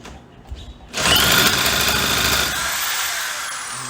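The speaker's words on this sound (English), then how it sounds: "So you just do it slowly and steadily with the electric starter that's supplied along with the saw" A Poulan 2150 chainsaw being cranked by its supplied electric starter, a sudden loud, steady whirring drone that kicks in after a quiet second and holds close and unbroken to the end.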